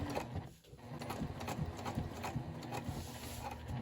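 Sewing machine running a top stitch at a long stitch length, a quiet steady rapid mechanical clatter of needle strokes, briefly pausing near the start and then continuing evenly.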